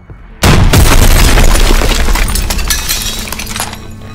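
A rocket launcher fires in a World War II combat scene from Call of Duty WWII: a sudden loud blast followed by a long rumbling, crackling roar with debris and shattering layered on top.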